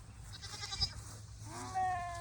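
Two short bleats from a nearby sheep by a sheep tractor on grazing pasture, one early and a longer wavering one near the end, over quiet outdoor background.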